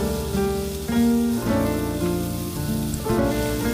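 Mushrooms and vegetables sizzle steadily in a frying pan over high heat, a loud, continuous crackling hiss heard close up with no talking.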